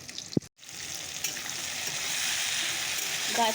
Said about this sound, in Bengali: শুকনো লঙ্কা পেঁয়াজ লঙ্কা টমেটো আর দুটো কাঁচা লঙ্কা দিয়ে দিচ্ছি যেগুলো একটু ভেজে নিচ্ছি